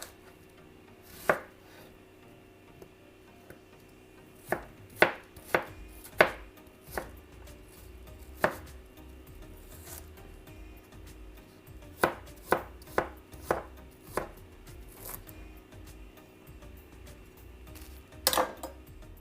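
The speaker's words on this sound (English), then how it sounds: "I'm going to go ahead and dice my onion as well" An onion being diced on a cutting board with a knife for potatoes and chorizo, heard as a string of sharp, close chopping knocks in irregular bursts separated by short pauses.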